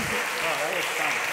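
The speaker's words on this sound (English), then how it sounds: "please just join me once more in giving Rufus another round of applause" Audience applause at a creative meetup in London, a dense steady wash of clapping filling the whole moment with no break.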